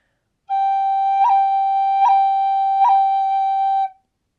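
A tin whistle holds one long, bright note, broken three times by quick finger cuts that add small blips without stopping the tone.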